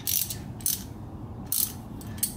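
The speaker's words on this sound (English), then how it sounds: "a 15mm wrench here to undo this bolt back here" A 15mm wrench ratchets on a brake caliper bolt of a C5 Corvette, producing three short, close bursts of rapid clicking separated by pauses.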